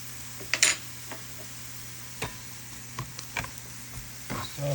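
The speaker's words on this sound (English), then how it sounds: "Saute that for another minute or so." Garlic, mushrooms and onions sauté in a pan for green chili burgers, giving a quiet, steady low sizzle broken by a few sharp utensil clicks and scrapes.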